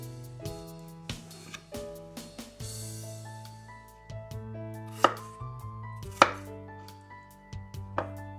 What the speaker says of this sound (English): And then slice it into pieces